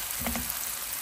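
Masala for a Telugu fish curry frying in hot oil, a brief steady sizzle heard up close and alone, with a faint stirring scrape.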